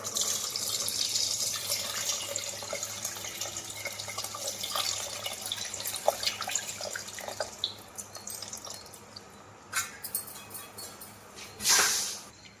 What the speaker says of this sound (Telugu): ఇప్పుడు రసం పోసేద్దాం దీనిలో